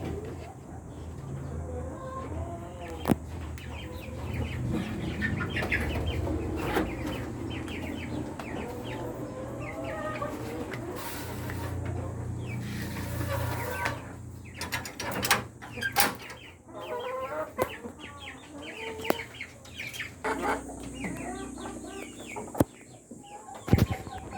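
Rhode Island Red breeder chickens cluck in cages on a farm, a steady chorus of nearby hens under a constant mechanical hum, with occasional sharp knocks and someone talking at times.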